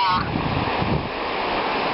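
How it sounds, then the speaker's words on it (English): Ocean waves rolling and crashing onto the shore, a broad rushing surf noise with some wind buffeting the microphone, steady and close for about two seconds. "I like to hear the noise of the waves"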